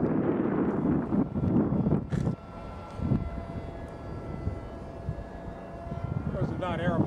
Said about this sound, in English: it's pretty windy for a little airplane like this, and it flies pretty good in the wind